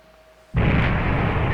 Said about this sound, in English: Explosions already. Getting to the thick of it.